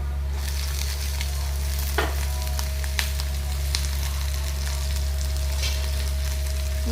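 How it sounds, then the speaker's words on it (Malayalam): Chopped green chillies frying with garlic in hot oil for lemon pickle, a steady broadband sizzle over a low constant hum, with a few sharp spatters and clicks; nobody speaks. "ഇനി അതിലേക്ക് അരിഞ്ഞ് വെച്ചേക്കുന്ന പച്ചമുളക് ഇട്ട് കൊടുക്കാം"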